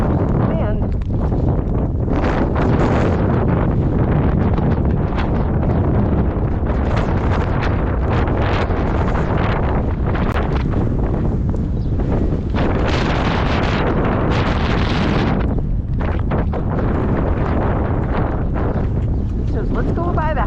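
A gale-force wind storm buffets the microphone outdoors with heavy, continuous roaring gusts and rumble throughout, while someone talks intermittently beneath it.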